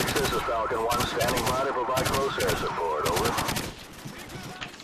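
Rapid automatic gunfire in Call of Duty 4 crackles in dense overlapping bursts, with distorted radio-style voices talking underneath, before thinning out near the end.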